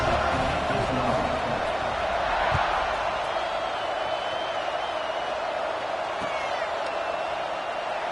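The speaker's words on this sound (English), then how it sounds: "this crowd is buzzing after that last score" Stadium crowd in the College Football 26 video game, a steady, moderately loud roar and buzz of fans after a score, with a few faint thumps, sustained throughout with no break.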